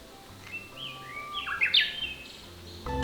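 Several birds chirp and whistle in a cypress forest near the Boseong green tea fields in Korea, with brief clear calls and a louder trill in the middle over quiet background.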